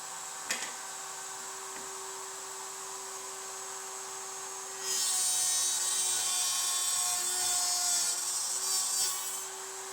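A SHARK RS1000 Pro CNC router table runs a bit through wood to cut a sliding dovetail socket, a steady motor whine that jumps to a louder, harsher cutting roar about halfway through.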